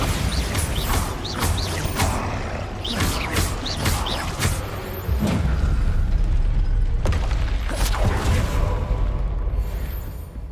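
Bombarda spell blasts in Hogwarts Legacy, a string of loud booming explosions with crackling debris over a constant rumbling game soundscape, the hits landing every second or so.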